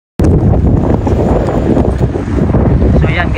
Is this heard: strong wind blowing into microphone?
yes